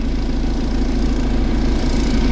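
A hybrid four-stroke engine idles steadily on a forest trip, a close, loud low-pitched rumble with an even throbbing pulse and no talk.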